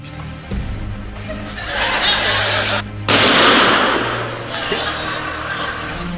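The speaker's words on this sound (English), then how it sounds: "Now, we know Penn and Teller's bullet catch in the teeth is staged, but wow, is it a great trick." Gunshot from Penn and Teller's stage bullet catch trick: a single sharp, loud blast cuts through a steady theatre hubbub, with audience chuckling and laughter before and after it.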